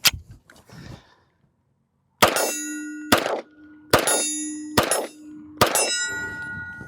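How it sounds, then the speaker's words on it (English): A Sig X-Five Legion pistol fires five shots at an outdoor range, each a sharp close crack followed by a ringing metallic tone, spaced roughly evenly after a few faint knocks. "I'll take 5 shots and show you that it is working"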